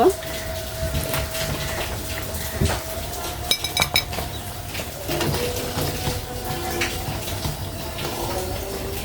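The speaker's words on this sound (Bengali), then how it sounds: "ভাজাটা হয়ে গেছে আমি এখন তেল ঝরায় উঠাই নিব" Fried beef snacks being lifted out of hot oil to drain, with scattered metal clinks and scraping of a utensil against the pan over a steady sizzle, close by, with brief talk.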